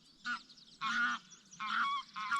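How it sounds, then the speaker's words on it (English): Geese honking in the morning on a Scottish countryside farm near Clovenfords, four loud nasal calls in quick succession, fairly close, with no talk over them. "here come the morning geese"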